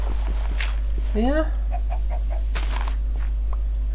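A Minecraft chicken gives a few short, chirpy in-game clucks close up. Soft game noises and a little voice surround the clucks over a steady low hum.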